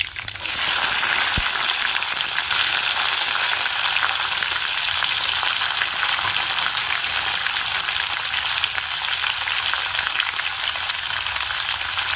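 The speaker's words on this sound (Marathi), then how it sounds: "आता फोडणी करते" Spices tempering in hot oil, with mustard powder and asafoetida, erupt in a loud, sustained sizzle after a brief initial splash, then crackle steadily and close up for the whole stretch.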